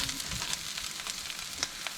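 Corned venison hash frying in a pan, a close, continuous crackling sizzle with small pops and a faint stir, with no talking.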